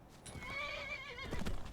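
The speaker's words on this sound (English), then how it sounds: "So this is where this horse is at, and we're going to try to tame him as best we can." Wild dapple brown horse in the video game Skyrim gives a clear, close whinny, followed by a few clopping hoof sounds.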